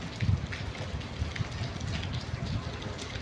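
Steady monsoon rain falls continuously, a dense, even hiss of drops on surfaces with no voices, close and fairly loud throughout.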